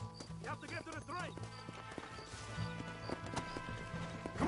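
Horse hooves clip-clop at speed in the Red Dead Redemption video game, a steady galloping rhythm mixed under shouting voices and busy game sound.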